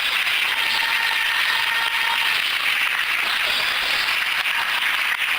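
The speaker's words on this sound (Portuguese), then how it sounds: "Mais forte as palmas, amém?" A church congregation claps during an evening worship service, a steady, dense wash of applause that holds evenly from start to finish with no voices over it.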